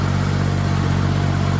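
A heavily loaded tractor's engine drones loud and close in a steady, unbroken low rumble.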